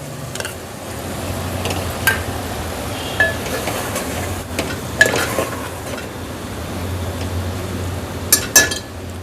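Tomatoes frying with potato mince in a pan, a low steady sizzle broken by occasional sharp clinks and scrapes of a spoon against the metal, close up and with no voices.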